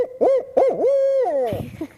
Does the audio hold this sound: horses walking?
no